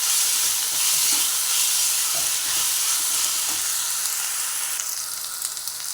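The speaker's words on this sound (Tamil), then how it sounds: "ஒரு 2 தக்காளி, மீடியம் சைஸ் தக்காளி பொடியாக கட் பண்ணி வச்சுருக்கேன், அதையும் சேர்த்து வதக்கிடலாம்" Onion, tomato and ginger-garlic paste sauté in a pan for a restaurant-style mutton liver pepper fry, giving a steady, close, loud sizzle with soft stirring scrapes throughout.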